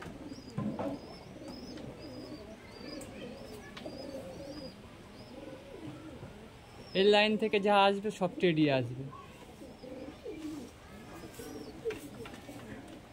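Pagla-line pigeons, including a male bird, coo in a soft, steady murmur through a loft while someone talks close by over them.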